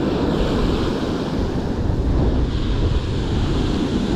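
Rough ocean surf breaking on a beach where people fish with lures, a loud, steady roar of waves with wind buffeting the microphone throughout.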